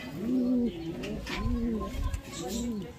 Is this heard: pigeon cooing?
yes